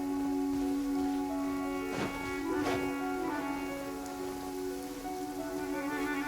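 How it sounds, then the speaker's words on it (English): Rain summoned by an in-game ability in a video game, a steady pattering rain sound over a sustained tonal hum, with a couple of brief swishing bursts. "Let it rain!"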